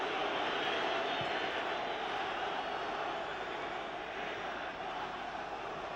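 A large football stadium crowd at the England versus Italy World Cup qualifier in 1978, a steady, dense roar of many voices rumbling on without a break for the whole stretch, loud and broad, with no clear single voice.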